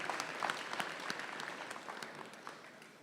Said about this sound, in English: give a well-deserved round of applause to the representative, Adam McLean, AV technician